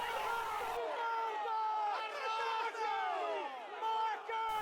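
Taloro supporters roar and cheer after their side goes 2-0 up in a football match, a dense, sustained crowd noise with rising shouts and excited yelling, loud and continuous throughout.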